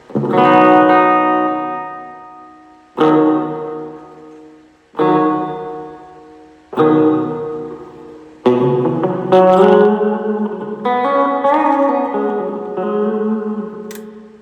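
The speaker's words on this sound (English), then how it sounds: "That's some reverb right there." Guitar chords strummed through a Melonare MA 1 portable amp ring out with heavy reverb, each decaying slowly into a washy tail, then several notes played in quicker succession.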